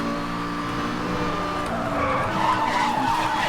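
A car brakes hard and skids in the racing game Need for Speed: Hot Pursuit (2010), a continuous tire squeal over engine drone that rises toward the end, with no talk.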